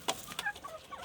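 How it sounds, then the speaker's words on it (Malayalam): Chickens in a coop give a few short, sharp clucks in quick succession, faint and somewhat distant against a quiet background. "ഇതാണ് കോഴികൾ"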